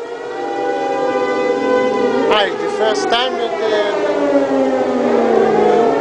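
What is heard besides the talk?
air raid siren in Haifa, Israel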